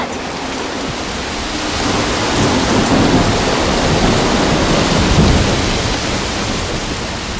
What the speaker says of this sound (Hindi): बारिश मुझे बहुत पसंद है।